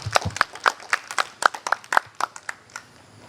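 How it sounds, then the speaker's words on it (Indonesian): Scattered clapping from a small audience at a talk on setting 2021 resolutions: a dozen or so distinct, separate claps in an uneven rhythm, fairly close and moderately loud, thinning out toward the end. "Tepuk tangan buat Anda semua."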